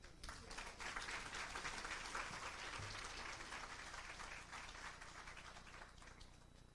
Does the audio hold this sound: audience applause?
yes